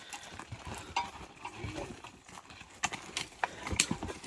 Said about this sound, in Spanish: Estos se llaman caballos serranos.